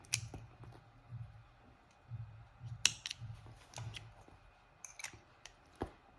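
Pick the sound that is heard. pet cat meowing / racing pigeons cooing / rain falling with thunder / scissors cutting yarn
scissors cutting yarn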